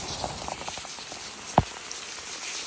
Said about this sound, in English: I am still working on the patio in the rain